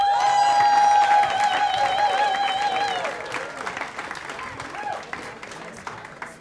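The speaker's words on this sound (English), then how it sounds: "round of applause for Mary Hoefler" Audience applause at a storytelling event for a storyteller, a crowd clapping under prominent tonal music or sustained notes early on, then thinning and fading over the second half.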